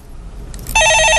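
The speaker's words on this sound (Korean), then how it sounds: "예, 전화 받아보겠습니다." A telephone bell starts ringing partway through after a quiet room hum, a loud, bright electronic trill repeating rapidly, near and alone without talk.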